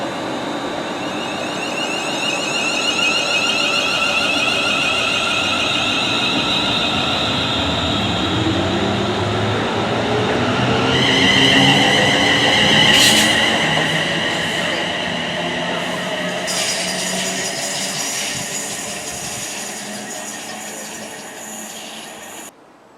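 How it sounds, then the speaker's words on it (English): A London Northwestern Railway train at Lichfield Trent Valley gives a loud, continuous rolling rumble with wheel squeal and rising metallic whines, steady throughout and with no talk. "the 10:36 London North Western Railway service to London."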